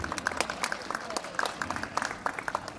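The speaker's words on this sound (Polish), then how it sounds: "Wielkie brawa, przywitajmy go wielkimi brawami." Audience applause welcoming a singer onto the stage at an outdoor mineral water festival concert in Kudowa-Zdrój, with steady moderate clapping from a crowd at some distance throughout.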